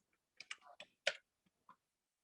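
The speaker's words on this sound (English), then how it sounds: "press down arrow key in your keyboard" Arrow keys tapped on a computer keyboard while working in Adobe Illustrator, about half a dozen quiet, crisp clicks in an irregular rhythm, close and otherwise silent.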